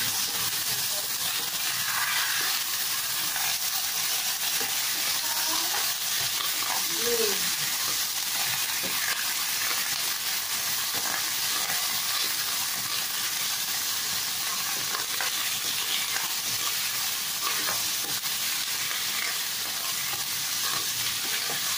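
Pork adobo ingredients frying in a pan with steady, moderately loud sizzling and hissing, plus occasional stirring scrapes, alone with no talk.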